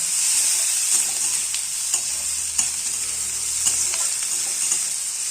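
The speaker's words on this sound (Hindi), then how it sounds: "ताधरे पियाज पकई नवा।" Onions sizzle steadily as they fry in a pan for a potato curry, with scattered scraping stirs and light clicks of a utensil against the pan throughout, close and continuous with no voices.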